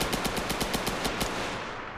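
Rapid gunfire in a video game police chase involving a Sentinel car in Rockshore West: about nine sharp, loud shots fired in a quick, even burst, then a fading tail.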